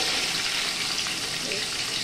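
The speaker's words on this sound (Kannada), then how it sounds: "ಸೊ ಈಗ ಹಾನಿಯನ್ನು ನಾನು ಹಾಕ್ತಾಯಿದ್ದೀನಿ" Chopped onions dropped into hot oil for chicken biryani, a loud continuous sizzle and hiss of frying close up with faint stirring.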